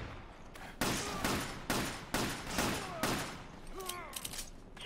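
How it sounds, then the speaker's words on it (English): Repeated bursts of video game gunfire, several loud volleys spaced roughly a second apart, with whistling tones and faint background sounds between them. "I can hear gunfire."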